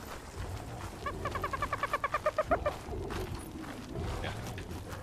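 Chickens in Ark Survival Ascended give a quick run of about a dozen rhythmic clucks near a building, mid-distance over a low game ambience, with no talk during the calls.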